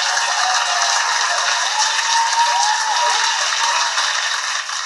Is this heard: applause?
yes